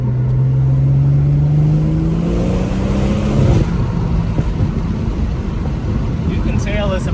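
A BMW 440i Gran Coupe freshly MHD tuned revs its engine close by, the pitch climbing in a long rising pull that then drops off into idle and road noise.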